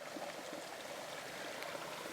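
Creek water where two creeks meet in Gillespie County, Texas, trickles and burbles in a soft, continuous wash, quiet and steady without any talking.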